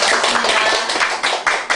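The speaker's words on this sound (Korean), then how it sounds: "박수 한번 드립니다" Short burst of audience clapping at a Korean lecture on saju fortune-telling, a scattered round of hand claps lasting under two seconds, close and fairly loud with no talking over it.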